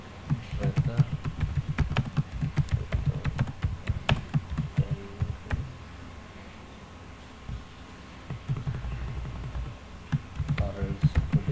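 Fingers type on a computer keyboard to enter a weather search, making irregular clusters of close, crisp key taps. A quiet stretch falls in the middle, and faint speech sits in the background.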